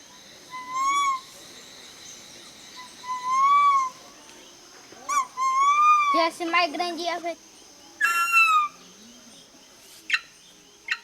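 Harpy eagle, a rare endangered raptor, confined in a small cage about a metre across, giving a series of high, thin whistling calls in short bursts, interspersed with other clipped sounds.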